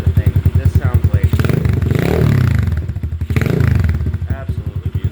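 Modded X-pro DLX Storm 150 motorcycle engine running close up with a loud, throaty, rapid exhaust pulse. It rises into two revs and settles back, and a voice speaks briefly over the engine.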